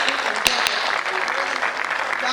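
A crowd at a Hindi poetry gathering applauds a senior poet with strong, dense clapping throughout, a couple of sharper claps standing out near the start.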